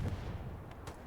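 Artillery fire and explosions in a war video game set on Utah Beach: a dense, muffled low-frequency rumble with a couple of sharper distant blasts near the end, continuous battle ambience with no talking.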